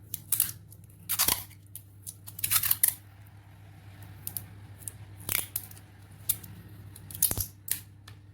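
Insulating tape being wrapped around the winding wire of an auto-start transformer. Quick crinkly tearing and snipping bursts come in irregular clusters over a steady low electrical hum, close and fairly loud, with no talk.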